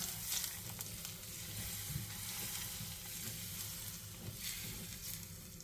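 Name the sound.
ghee crackling and sizzling in pan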